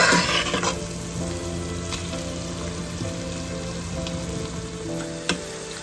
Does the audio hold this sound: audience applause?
no